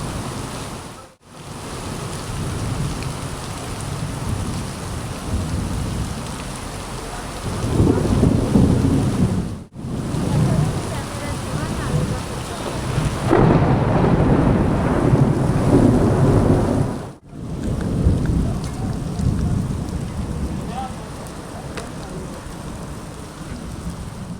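Steady, heavy rain pours down throughout in Bhiwandi, with deep rumbles of thunder rolling in and swelling at times.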